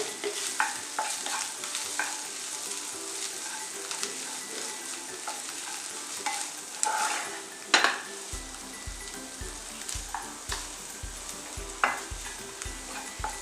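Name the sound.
sautéing spices and ingredients in a pan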